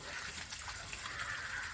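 Water flows from the outlet of an opened Jalamithra water filter as a steady, soft gushing rush, continuous and close throughout.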